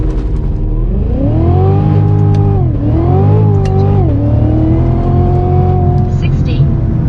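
A Cadillac CTS-V launches hard from a standstill with heavy wheelspin, and its loud engine revs sharply upward through repeated gear changes. A dense roar fills the interior, with quick dips between each rising pull.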